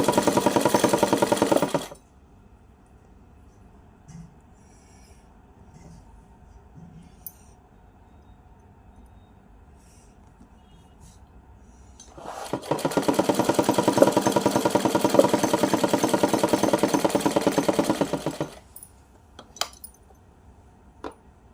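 A sewing machine stitches piping onto the neckline of a small doll's dress in two loud, steady bursts, a short one at the start and a longer run of several seconds later, with quiet handling noises between them.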